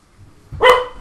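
A pet dog gives a single short, sharp bark close by inside a home, rising abruptly out of low background noise.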